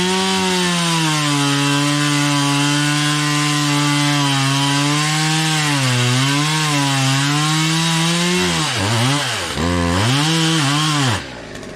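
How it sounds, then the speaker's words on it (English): A chainsaw cuts through tree roots in the ground, running loud and close at a steady pitch, then revving and bogging up and down several times near the end before stopping. "So let's pull the chainsaw out."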